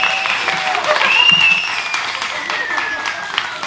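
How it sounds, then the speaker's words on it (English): An audience claps in a steady round of applause, loud and continuous, with a few voices mixed into the crowd noise. "Let's give you a round of applause for having the tissue on your head."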